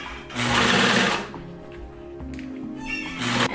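A sewing machine stitches the fabric lining of a leather clutch purse in two bursts of fast, mechanical whirring, with a quieter pause and light handling noises between them, close and clear with no talking.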